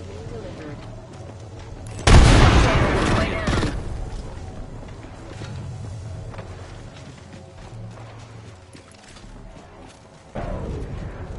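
A frag grenade tossed in a video game bursts with a loud, sudden boom that rolls off over a second or two, followed by softer game rumble and a second sharp blast near the end.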